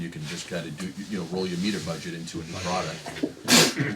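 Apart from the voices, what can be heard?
sneeze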